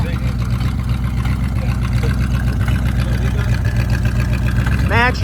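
Big block Ford Thunderbird V8 idling steadily up close with a slight misfire, a continuous low rumble with faint irregular beats, and a brief squeal near the end.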